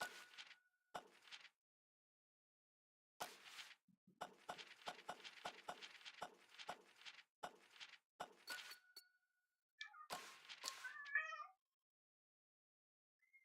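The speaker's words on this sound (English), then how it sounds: "You meowing at me?" Bilbo, a pet cat, meows faintly a few times under quiet clicking and tapping in a very soft room recording, with the calls spread out across the stretch.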